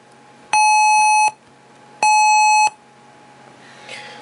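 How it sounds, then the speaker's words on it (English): DTMF tones from a cell phone connected to an FC controller: two loud, steady electronic beeps of about three-quarters of a second each, separated by a short pause, over faint background hiss. "that is DTMF activation with a cell phone connected to a FC controller"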